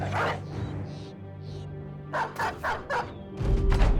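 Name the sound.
dog released in Battle Brothers video game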